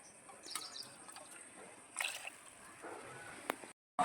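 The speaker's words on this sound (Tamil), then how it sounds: "அதனால் கொஞ்சம் மீடியமாக தண்ணி ஊற்றுறோம்." Water is poured into a cooking pot for village-style fish curry, making a faint, steady trickle with a few louder splashes before a brief drop to silence.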